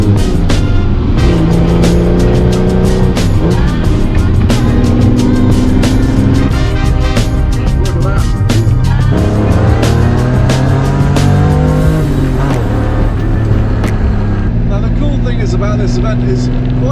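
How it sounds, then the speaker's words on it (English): An Aston Martin Valkyrie and other cars drive along a road, engines rising and falling through gear changes with loud, sustained roar and passing sweeps heard from close by, with no talk. "hopefully get some cool footage of the cars driving along"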